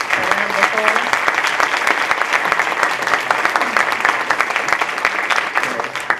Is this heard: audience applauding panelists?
yes